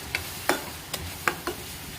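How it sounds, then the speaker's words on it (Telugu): A spoon stirs a frying tomato paste mixture for drumstick gravy curry in a pan, giving a handful of short scraping strokes at uneven intervals over a low, steady sizzle. "ఈ మిశ్రమాన్ని బాగా కలుపుకోవాలి"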